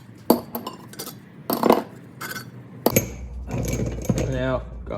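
Metal cylinder head bolts from a Toyota Cressida's head are handled and dropped, producing several sharp metallic clinks and clatters at intervals, close by, with someone talking over some of them.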